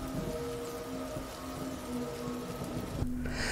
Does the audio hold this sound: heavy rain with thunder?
yes